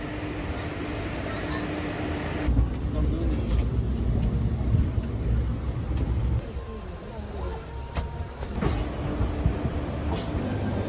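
A Lalgola–Sealdah passenger train arriving, a loud continuous rumble of wheels and carriages with shifting roar and occasional clanks, close by, while people talk over it.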